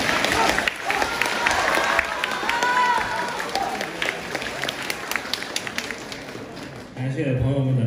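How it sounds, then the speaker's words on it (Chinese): A live audience applauds at a Deyun Society crosstalk show in Harbin, a dense, steady wash of clapping with crowd noise that thins briefly near the end before swelling again. "感谢朋友们的掌声啊！"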